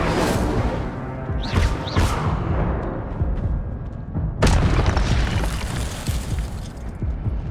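A fiery spell blast cast in Hogwarts Legacy, a loud booming whoosh with shattering crashes over a continuous roaring game backdrop, with a sharp burst standing out midway and strong rumbling throughout.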